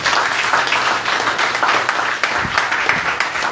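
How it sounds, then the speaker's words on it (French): Congregation at a church service applauding visitors, loud dense clapping throughout, close and steady with slight rhythmic pulses. "On applaudit les visiteurs."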